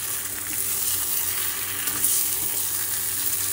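Stuffed brinjal (eggplant) lightly frying in a pan, giving a steady, close sizzle with soft crackle throughout and no voices.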